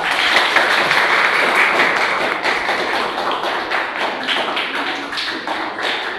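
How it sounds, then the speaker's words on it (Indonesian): Classroom applause for group 3 after their recitation, a dense, even wash of many hands clapping throughout, loud and close, slowly tapering in intensity. "tepuk tangan untuk kelompok 3"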